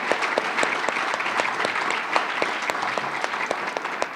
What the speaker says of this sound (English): we should give a round of applause to everyone